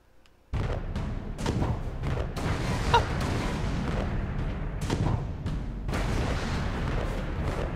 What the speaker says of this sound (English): Press left trigger, fire cannons